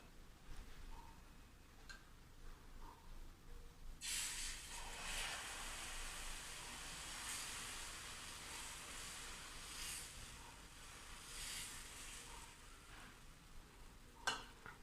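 Beetroot dosa batter hits a pan heated over medium gas and bursts into a bright, steady sizzle that holds loud for about ten seconds, with a sharp clink near the end.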